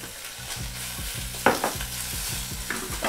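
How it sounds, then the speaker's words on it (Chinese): Shrimp shells stir-fry in olive oil in a pan, a soft continuous sizzle broken by repeated rhythmic scraping strokes of a spatula, with one sharper clack midway. "我们先把虾壳等一下拿去炒一下，因为小火不简单的，我们先放一点橄榄油"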